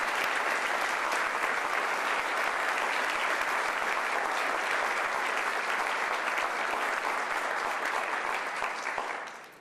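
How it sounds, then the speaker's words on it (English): Sustained applause from a ceremony audience honoring First Lady Melania Trump at the Women of Courage Award event, a dense even wash of many hands clapping for about ten seconds before tapering off, with no talking. "Please, another round of applause."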